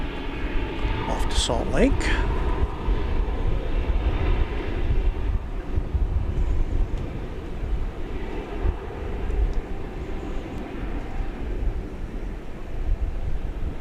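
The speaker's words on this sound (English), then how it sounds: "It's an Airbus A321" An Airbus A321 jet airliner at DFW Airport gives a steady, fairly loud rumble throughout, while someone talks over it and a brief chirping radio tone cuts in early on.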